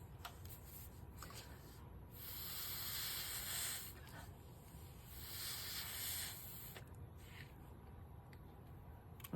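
A craft heat tool blows air in two sustained hissing bursts of a few seconds each, fairly quiet and close, with soft rubbing and handling noises in between.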